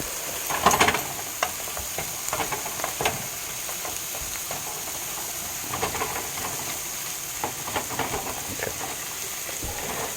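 Steak, green peppers and mushrooms sizzle in a pan with the heat just cut off, a steady hiss of frying with scattered crackles and a few light utensil taps, no talking.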